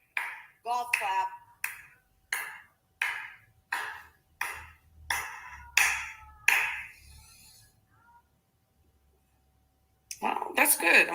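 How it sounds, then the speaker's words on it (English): A slow, polite golf clap of about nine soft, evenly spaced hand claps, close and dry with quiet gaps between them, followed by silence and then a person talking. "Golf clap."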